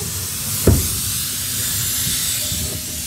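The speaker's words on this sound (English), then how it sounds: "That's a lot cleaner than I thought it was gonna cut." A plasma cutter slices through metal in a car-build shop, giving a steady, close hiss throughout with one sharp crackling burst early on.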